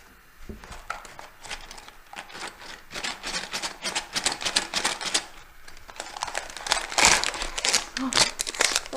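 Crinkly plastic rustles and crackles in bursts as a small LEGO parts bag is handled and pulled open, growing louder toward the end, with occasional voices nearby.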